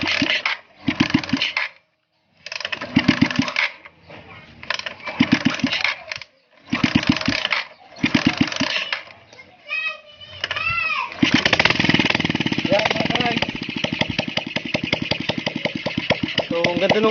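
A restored Suzuki Shogun 125 motorcycle engine runs close by, first in short bursts with someone talking in between, then settling into a steady idle with a rapid, even putter.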